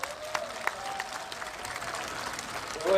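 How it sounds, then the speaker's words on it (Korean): Audience applause at a political lecture event, a steady spread of clapping from a room of listeners that holds for several seconds and swells slightly near the end, with no talk over it. "그래서 박수 한번 주세요."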